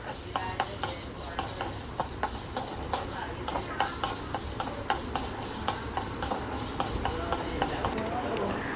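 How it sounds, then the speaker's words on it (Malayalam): Fenugreek seeds rattle and tick in a hot pan while being stir-fried, a dense continuous scraping and sizzling with frequent small clicks, close and fairly loud. "ഇനി നമുക്ക് ഇച്ചിരി ഉലുവ എടുത്തിട്ട് നല്ലതുപോലെ ഫ്രൈ ചെയ്തെടുക്കണം."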